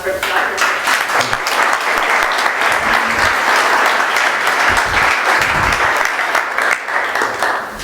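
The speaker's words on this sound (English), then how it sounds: "please let's have a round of applause for Dr." A TEDx audience applauds as a speaker is introduced, steady, full-room clapping that holds at an even level throughout.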